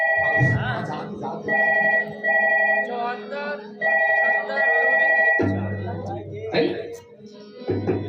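A telephone ringtone plays in repeated bursts, heard under and between people talking.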